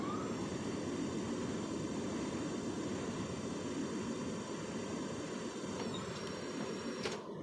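A steady, broad engine roar from an Airbus A380 taking off in the flight game Airline Commander, sustained and fairly faint throughout, with a couple of brief clicks near the end.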